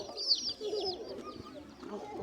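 Chicks for sale at a market chirp in quick high peeps, fairly faint and a little distant, over a low background murmur.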